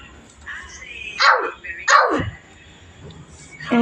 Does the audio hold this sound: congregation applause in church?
no